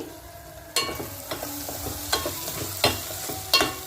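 Brinjal and chana dal curry gets stirred in a pan, a spoon scraping and knocking in several sharp strokes over a low background sizzle, close and fairly loud, with no talk.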